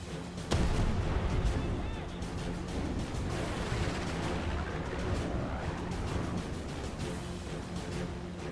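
Yak-9T's 37mm cannon firing in War Thunder, a heavy burst at the start followed by sustained loud combat noise, engine drone and repeated gunfire pops throughout.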